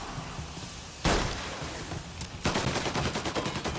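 Enemy gunfire in the game Mafia: a loud single shot followed by a rapid rattling burst of automatic fire, close and harsh over a noisy background.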